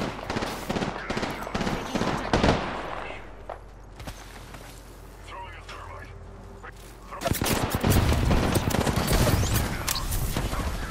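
Gunfire in a video game: rapid, crackling bursts of shots come in clusters at the start and again near the end, with a quieter stretch between that holds footsteps and faint background noise.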